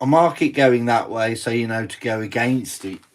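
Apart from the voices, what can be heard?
No distinct noise like a dog, phone or traffic.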